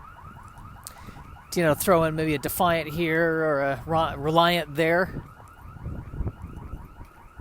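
A car alarm cycling through repeated warbling sweeps in the background while someone talks over it close by.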